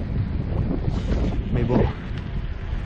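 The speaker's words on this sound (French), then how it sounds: "J'ai l'impression qu'il y a quand même un léger vent défavorable." A light headwind buffets the microphone of a mountain bike fitted with a SuperWheel 650, a steady, loud rumbling roar throughout, with a brief spoken remark.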